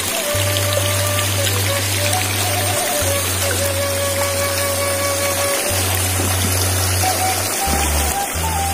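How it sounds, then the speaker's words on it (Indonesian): Water runs through an irrigation channel beside rice fields in a Sundanese village, a steady close rush and trickle with a low pulsing hum underneath, and no clear talking. "Ini saluran airnya dari sini."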